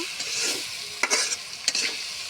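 A curry of green banana and hilsa fish being stir-fried, with a soft continuous sizzle broken by two sharp scraping strokes of the spoon against the pan, close and without talk.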